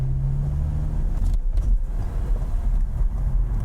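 A BMW M6 with a V10 engine cruises at low speed in its softest mode, a low, steady engine rumble heard from inside the car with faint road and wind noise and no talking.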